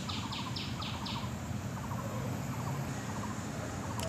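Birds call in a mountain setting in short repeated chirping bursts, fairly faint over a dense steady wash of insect and ambient noise.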